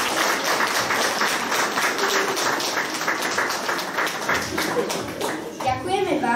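Applause and clapping from an audience at a school children's performance honoring the elderly, a dense steady patter of hands filling the room with children's voices mixed in throughout.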